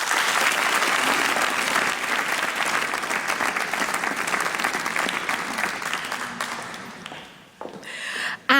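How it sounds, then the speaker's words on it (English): Audience at a BBC Radio 2 Young Choristers of the Year 2017 choir competition final applauds the departing judges, a loud, dense, sustained round of clapping that gradually thins and fades toward the end. "Vicky Stone, Simon Lowell and Lynn Dawson, a huge round of applause as they head off to decide who will be the BBC Radio 2 Young Choristers of the Year 2017."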